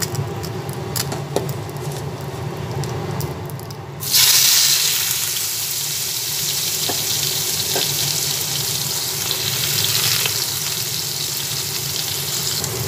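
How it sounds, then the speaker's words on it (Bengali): Chopped onions drop into hot oil in a wok for a masala fish dish, bursting into a loud, steady sizzle that begins a few seconds in and continues, with a faint hiss and kitchen clatter before it. "এক এক করে এই তেলের মধ্যে আমি কুচানো পেঁয়াজ দিয়ে দিচ্ছি"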